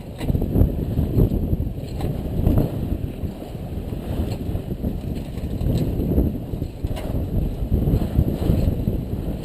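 A sailboat runs off the north coast of Eleuthera in a southerly wind of about 16 knots, with a loud, constant rushing of wind buffeting the microphone over a churning wash of water against the hull.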